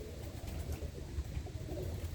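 Birmingham Roller pigeons coo softly and continuously in low, murmuring tones, mixed with a muffled background rumble.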